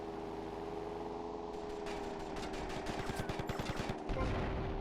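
Gunfire in GTA Vice City: a rapid burst of shots fired in quick succession over a steady background hum, building for about two seconds and ending with a louder thump.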